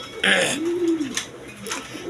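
Large, high-quality breeding pigeons give a soft, low rolling coo that rises and falls once, close by, amid faint background sounds and a brief voice.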